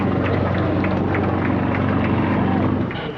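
A Sukhoi Su-31 single-seat aerobatic propeller plane drones steadily overhead with a loud, constant engine hum that eases slightly near the end, under a voice.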